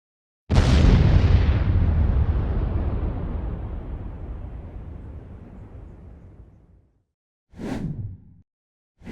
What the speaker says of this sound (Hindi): एक बम से पूरा ही अपार्टमेंट भूरे की तरह बिखर जाता है।